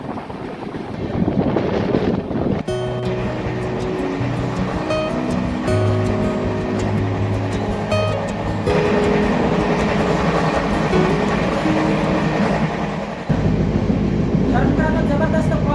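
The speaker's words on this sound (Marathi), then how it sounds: "6:52 धारवाड रेल्वे स्टेशनवरती राणी चिन्नम्मा एक्सप्रेस आलेली आहे" The Rani Chennamma Express stands at Dharwad railway station, its engine humming with a low drone and steady mechanical rumble that swells louder near the end, amid broad station noise.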